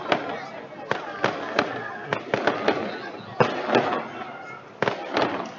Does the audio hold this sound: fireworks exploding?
yes